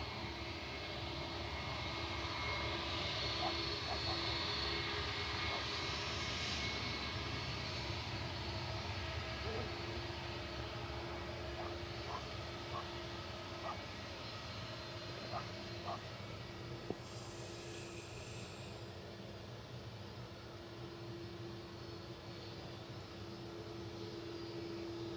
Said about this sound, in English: Turkish Airlines next up for departure, heading back to Istanbul. This is TCJTI, an A321 classic 8-year-old aircraft